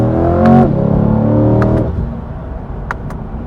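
A 2024 Chevrolet C8 Corvette Stingray's mid-mounted 6.2-litre V8 revs hard from inside the cabin, a loud rising engine note that climbs and then drops away to a lower, steadier rumble.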